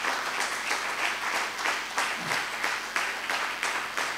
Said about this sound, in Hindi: क्या आप खुदा के जलाल के लिए जोरदार तालियां बजा सकते हैं?